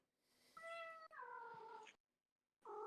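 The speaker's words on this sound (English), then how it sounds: "I hear a cat." A cat meows several times close by, with clear drawn-out tonal calls separated by a brief silence, over a quiet background with no talk.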